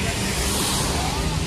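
A nearby car engine rumbles steadily and loudly in a Shillong-area vehicle, with broadband road and engine noise filling the short stretch and no clear speech over it.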